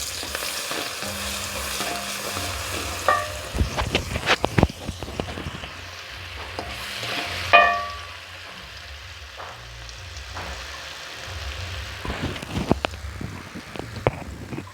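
Chopped ginger and garlic fry in an oil-filled pan while cooking a Sri Lankan tempered chicken dish, with a steady close sizzle, scattered crackling pops and a few stirring scrapes, no voices.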